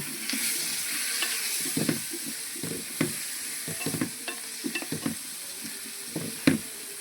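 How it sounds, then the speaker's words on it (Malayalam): Chopped washed vegetables are stirred in hot oil in a pan, with repeated scraping and clattering strokes of a spoon over a soft, steady sizzle. "നമുക്കിതിൽ ഇട്ടിട്ട് നല്ല ഇളക്കുക."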